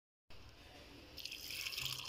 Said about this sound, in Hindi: तो पानी ऐड कर देंगे, मिक्स कर लेंगे।